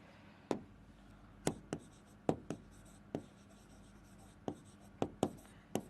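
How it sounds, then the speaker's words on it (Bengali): Pen writing out a chemistry note on paper, a sparse series of sharp scratchy strokes and taps at an uneven pace, close and quiet, with no talking. "দাঁড়াও স্মার্ট ভার্সন লিখে দেই"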